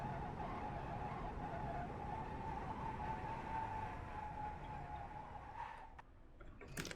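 Damaged race car in the iRacing sim driving along with a steady droning engine and road noise throughout, fading near the end into a few sharp clicks.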